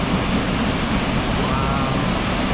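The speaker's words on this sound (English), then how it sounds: "you are rewarded with this view and the spray from the waterfall" A waterfall in Khao Yai National Park, Thailand, produces a constant broad roar and hiss of falling water and spray, steady and fairly loud throughout without any speech.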